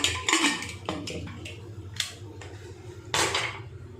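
Pressure cooker filled with dal, water and salt set down on a gas stove, with close metallic clanks and knocks of the pot and lid in an irregular series.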